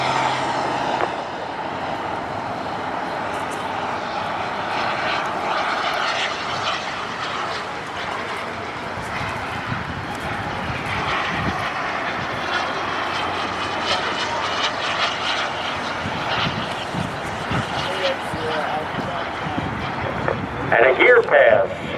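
A T1 Sport Jet RC model jet at an RC jet meet roars with a steady turbine rush through its takeoff roll, loud and continuous, with voices underneath.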